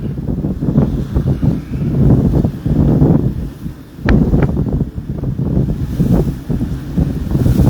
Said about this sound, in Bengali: বাইরে বের হওয়া যাচ্ছে না, প্রচুর পরিমাণে বাতাস এবং বৃষ্টি।